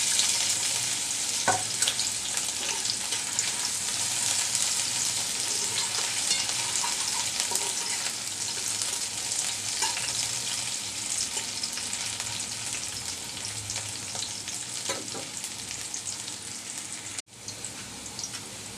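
Chopped garlic and onion fry in oil for a helencha greens stir-fry, producing a steady, close, rain-like sizzle that continues throughout with a few sharper pops and stirring sounds.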